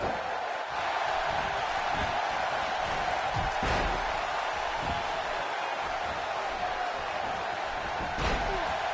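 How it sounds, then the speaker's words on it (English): An arena crowd at a wrestling event roars steadily, with a dense wash of cheering, scattered whoops and occasional heavy thuds from the ring, the din continuous and fairly loud throughout. "Would you listen to this crowd?"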